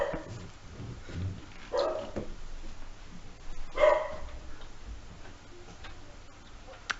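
A dog barks at the door in a few sharp, separate bursts over a quiet, ticking background, heard from a moderate distance with no voices.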